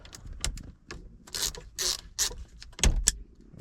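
Small Snap-on ratcheting screwdriver working on a loose tilt steering column of a Fiero GT, giving a series of close, sharp mechanical clicks and ratcheting bursts in irregular rhythm.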